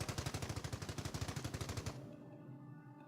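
Machine gun crews in the Company of Heroes video game fire rapid, evenly pulsed bursts for about two seconds, then the shots stop and a faint echoing tail fades out.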